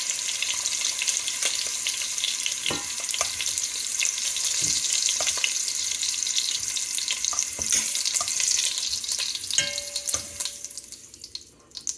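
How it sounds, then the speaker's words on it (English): Carrots and onions browning in a pan for a pork trotter and meatball stew, a steady close sizzle with irregular clinks and scrapes of stirring, tailing off toward the end. "I'm going to brown the carrots and I'm going to brown the onions"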